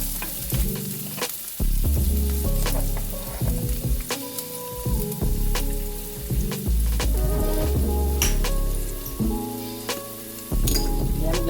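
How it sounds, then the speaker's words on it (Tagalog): White onion and garlic sauté in a pan with oil, cooked for a yellowfin fish steak. The sizzle is steady and close, broken by the knocks and clinks of stirring, with a musical tone running underneath. "pwede na natin ilagay yung ating sibuyas"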